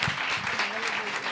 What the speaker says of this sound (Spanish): Quiero que le deis un aplauso a Blanca.